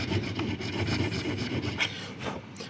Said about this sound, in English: I can come through this way and file my material